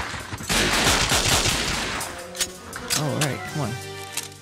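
Gunfire in the video game 007: Nightfire, a dense burst of rapid shots packed into the first two seconds, loud and close, followed by a few isolated shots while someone talks over it.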